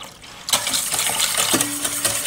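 After a soft opening, warm water splashes and pours into a mixing bowl with buttermilk, eggs and oil, a rushing sound, a brief clink partway through.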